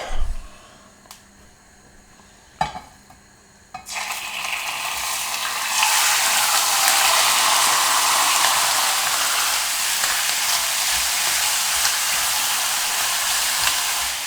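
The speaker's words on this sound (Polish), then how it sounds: "Dobra, no to co? No to smażymy." Lean pork frying in oil in a pan: after a few sharp clicks and clatters, a loud, continuous sizzle starts and builds, then holds steady to the end.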